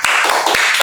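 A brief burst of hand clapping in applause during a podcast, loud and close, with a few distinct claps in a sparse, uneven rhythm.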